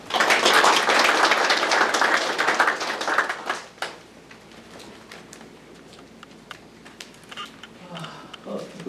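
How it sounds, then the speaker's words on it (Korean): Guests at a press association award ceremony in Nonsan applaud to welcome the mayor, a strong burst of clapping that fades after about three seconds, leaving a few scattered claps and quiet room noise. "박수로 맞이해 주시기 바랍니다"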